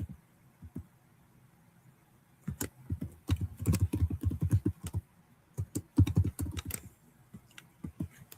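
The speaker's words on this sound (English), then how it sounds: "Typing." Someone types on a computer keyboard during a public works meeting, first in a few isolated taps and then in quick, close clattering runs with short pauses between them.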